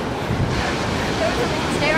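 Loud, roaring surf with a constant rush of breaking water and wind buffeting the microphone.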